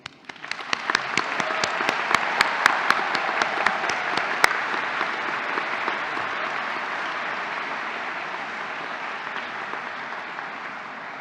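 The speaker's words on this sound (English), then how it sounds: "Please join me in a round of applause for Beverly O'Connor" Sustained applause from a large crowd at a university graduation ceremony, dense steady clapping that swells quickly and holds for several seconds before slowly tapering.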